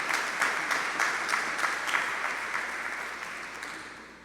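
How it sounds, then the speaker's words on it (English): An audience at a religious ministry gathering gives a round of applause, steady clapping of moderate loudness with a few pronounced claps, fading slightly toward the end. "bring up another student in the ministry class, Sister Kenya Muhammad, with a round of applause"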